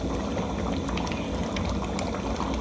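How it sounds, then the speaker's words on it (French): A covered pot of sanga, the Cameroonian dish, boils steadily, giving a continuous close bubbling and churning that holds an even loudness throughout, with no talking. "Ça boue."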